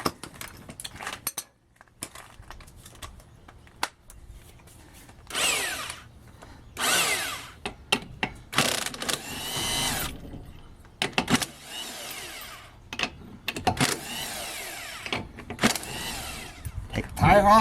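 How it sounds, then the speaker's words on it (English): A power impact tool zips lug nuts off a Plymouth Duster sitting on jack stands, in repeated short whirring bursts separated by quiet gaps and clanks, with someone talking in between. "we're going to take off the lug nuts real quick"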